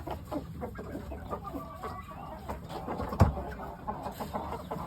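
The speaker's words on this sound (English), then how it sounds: "3 very special pullets, I think." Pure Oshamo game chicken pullets cluck softly and intermittently at close range, with short bird calls over low background noise and no talk.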